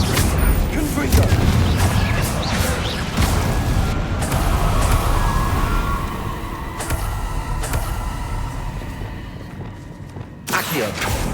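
Fiery blasting-spell explosions in the Hogwarts Legacy video game: a dense, loud stretch of booms and crackling impacts over continuous rumbling game noise, with a sharp burst near the end.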